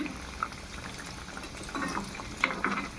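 Potato rolls fry in hot oil, a soft steady bubbling sizzle with a few brief pops and utensil clicks near the end.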